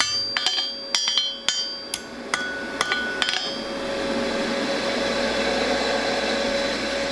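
A hammer forges hot steel on an anvil while shaping a simple J hook, with about eight sharp ringing strikes in the first half, then a steady background hum with no more blows.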